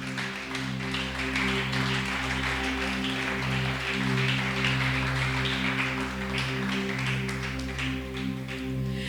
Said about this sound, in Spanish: Dale mejor un aplauso al Espíritu Santo